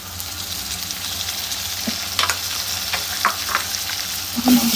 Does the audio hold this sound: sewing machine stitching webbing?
no